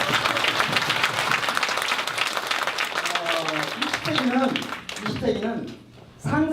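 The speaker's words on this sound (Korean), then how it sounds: "그렇게 되기를 바란다는 느낌이 있으면 박수 한번 주세요" A conference audience in a hall breaks into sustained applause, dense clapping that runs under a speaking voice before tapering off and falling quiet near the end.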